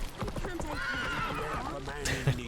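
Horse hooves clip-clop along with a loud neigh in the video game Witcher 3, close and clear, while someone talks over the sound.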